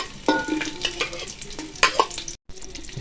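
A chopped medium onion frying in oil for fried chicken pulao, with repeated scraping stirs and soft knocks over a continuous sizzle; one brief dropout occurs near the end and no one talks.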